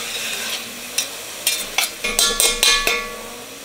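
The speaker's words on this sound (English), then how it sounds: "we're gonna add onions and celery. We're just gonna cook this down until the onions start to sweat" Onions and celery cooking down in a pot for clam chowder, with a soft continuous sizzle and several sharp clinks and scrapes of a spoon stirring against the pot, close and clear with no talking.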